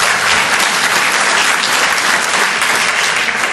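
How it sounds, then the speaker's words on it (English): An audience applauds during a lecture by Norman Podhoretz, the clapping dense and sustained at constant loudness for the whole stretch, with no voice on top. "Are you applauding me or the Orthodox?"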